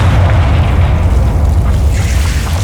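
Confringo spell explosion in Hogwarts Legacy, a loud, sustained booming blast with heavy low rumble that rolls on for a few seconds without fading.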